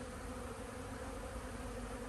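Honey bees buzzing in an open hive during an inspection, a dense, steady drone of many insects close by, unbroken throughout and with no voices.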